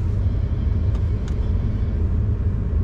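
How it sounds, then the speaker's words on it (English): A Ford F-150 PowerBoost hybrid pickup idles after a remote start, a steady low rumble close by with no voices. "So we've kicked it in, engine's on at the moment."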